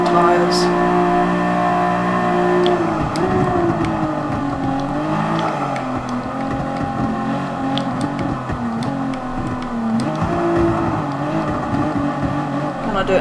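A Nissan GT-R Nismo races around the Nurburgring in Gran Turismo Sport, its engine droning loudly and steadily while the pitch rises and falls through gear changes, with brief tire noise over the top.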